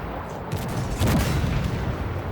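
Tank cannon fire in the Armored Warfare game: a heavy, dull boom near the start, then a louder blast about a second in with a rumbling low tail, and no talk over it.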